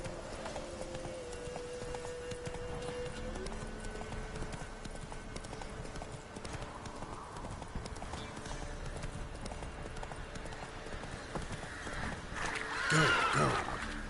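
Roach the horse gallops in The Witcher 3, steady rapid hoofbeats pounding throughout at close range under a constant ambient bed, louder near the end, with no talk.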